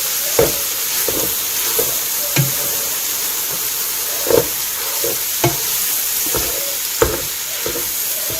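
Meat browning for spaghetti sauce sizzles steadily in a pan, a constant close frying hiss broken by regular scraping taps as a chopping tool stirs and breaks it up, with no talk.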